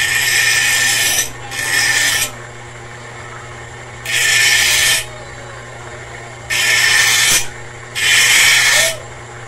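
Repurposed angle grinder motor fitted with a blower, running in five loud bursts of hissing, rasping air and motor whine, each lasting about a second, separated by quieter gaps with a low steady hum.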